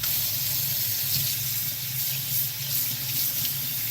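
Water runs steadily from a kitchen tap to rinse a Lake Simcoe whitefish fillet, a continuous close hissing splash with no break and no talking.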